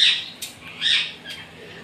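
Ringneck parrots give two or three loud, harsh squawking calls close by, spaced apart over a quiet background, alone with no talking.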